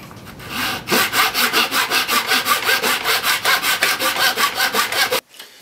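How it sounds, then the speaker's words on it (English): A saw cuts a fret slot in wood with rapid, even back-and-forth strokes, loud and close, rasping steadily for about four seconds before stopping abruptly. "Saw in there and see what it looks like with the saw blade in there."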